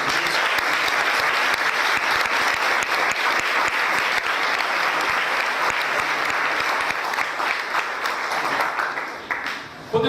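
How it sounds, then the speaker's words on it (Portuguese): A church congregation claps loudly and continuously, a dense, even wash of many hands that holds for several seconds before thinning out and trailing off at the end. "Vamos aplaudir a poderosa palavra de Deus."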